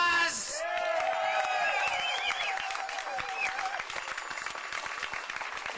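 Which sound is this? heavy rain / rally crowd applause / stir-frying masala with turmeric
rally crowd applause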